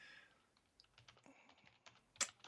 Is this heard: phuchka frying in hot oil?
no